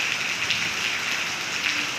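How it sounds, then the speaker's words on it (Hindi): Heavy rain pours down in a steady, dense hiss of drops striking surfaces, loud and continuous with no voices over it. "देखो मैं आपको दिखाती हूँ कितनी तेज़ बारिश हो रही है"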